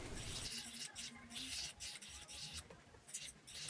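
A sanding disc on a rotary tool smoothing the outside of silver prongs on a six-prong solitaire ring, a faint, soft rasping hiss in short repeated strokes with brief pauses.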